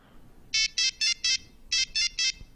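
Nokia 3310 ringtone melody, a loud monophonic beeping tune of seven short, evenly spaced electronic notes in two groups with a brief pause between them, played close and alone.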